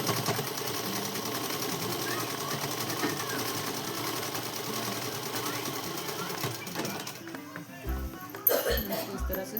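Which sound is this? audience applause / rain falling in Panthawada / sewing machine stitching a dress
sewing machine stitching a dress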